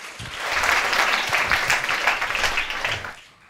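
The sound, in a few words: audience applause for the speaker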